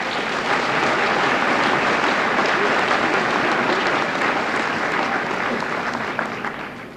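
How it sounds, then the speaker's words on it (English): Sustained applause from a crowd at a high school senior assembly, a dense, steady clapping that stays loud throughout before easing slightly at the end. "I'd like to give this class another round of applause."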